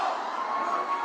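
A rally crowd in Las Vegas boos in one continuous, dense wash of massed voices, loud and sustained for a brief moment with no single speaker standing out.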